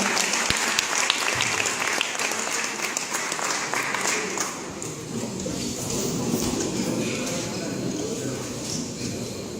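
A crowd at an award presentation ceremony applauds continuously, a dense wash of clapping that holds steady throughout, fairly close and loud.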